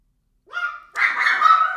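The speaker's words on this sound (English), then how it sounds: "now we've got the dogs going bananas" Dogs bark indoors at home, close and loud: a short whining yelp and then a rapid burst of excited barking.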